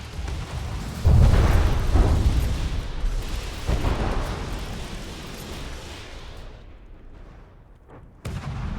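Heavy gunfire and explosions from a From the Depths naval battle, a loud deep boom near the start, then a second burst around the middle, with rumbling blasts fading before a final thud.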